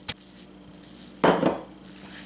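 Two pounds of ground beef drop into a bowl for Amish hamburger steaks, a soft, dense thump and brief squelch in the middle, framed by a small utensil clink before and a light tap after.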